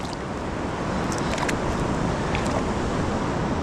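Waterfall on the Schuylkill River at a fishing spot, a dense steady roar of rushing water filling the whole scene, loud and continuous.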